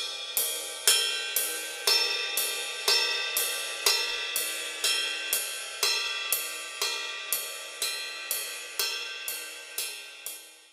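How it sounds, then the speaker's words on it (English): A drummer plays steady eighth notes on a ride cymbal, alternating between the bow and the bell. The bright, ringing strokes repeat evenly and sustain with no talk over them. "all we're going to do is play eighth notes on the ride cymbal."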